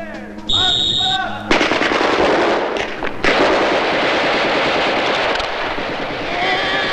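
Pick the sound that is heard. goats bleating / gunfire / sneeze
gunfire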